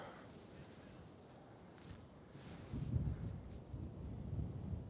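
Strong wind buffets the microphone on an open golf course, a broad low rumble that swells and gusts louder in the second half, with no voices heard.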